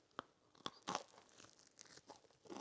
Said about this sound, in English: the trick is to get my teeth through the crust because it's going to be very chewy